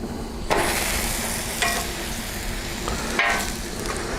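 A grilled cheese burger sizzles steadily on a hot griddle, with a few brief scraping turns of a spatula as it is flipped, the frying hiss continuous and close throughout.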